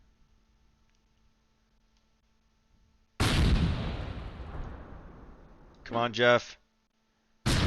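A loud artillery-style blast in the Close Combat WWII game bursts out and rumbles away over several seconds, then a short rattling burst of gunfire; a voice speaks briefly near the end.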